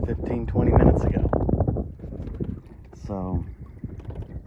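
Wind blowing across open water at high tide during a pedal-kayak outing, a steady rushing buffet against the microphone beneath someone talking throughout.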